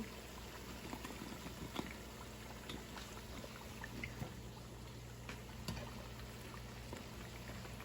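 Beignet dough deep frying in hot oil, a low steady bubbling sizzle with scattered crackles and pops running throughout, fairly quiet and with no voices.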